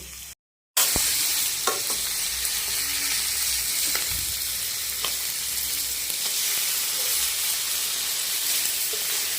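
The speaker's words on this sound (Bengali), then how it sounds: "এই যে মাছটা ভেজে নিচ্ছি" Hilsa fish frying in a pan with cumin and ginger spices, giving a continuous loud sizzle and hiss with occasional faint clinks, close up and unbroken after a brief cut at the start, no talking.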